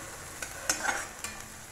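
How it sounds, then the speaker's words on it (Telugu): Bitter gourd curry frying in a pan makes a soft, low sizzle, broken by a few light stirring scrapes over a brief moment. "ఇలా ఫ్రై చేసుకోండి."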